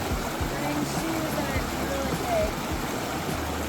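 A dirty stream flowing beside a backcountry hut on New Zealand's Te Araroa Trail, giving a steady, close wash of running water with no breaks.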